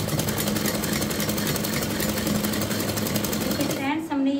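A sewing machine stitches saree fabric into a skirt, giving a close, steady rapid rattle that runs without pause; a voice briefly sounds near the end.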